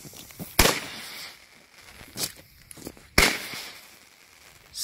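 Two Defender fireworks with titanium whirl effects going off outdoors: sharp, loud bangs with crackling tails, one big burst early, smaller pops in the middle, another heavy bang later, and quiet hiss between.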